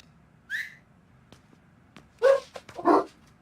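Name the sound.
dogs barking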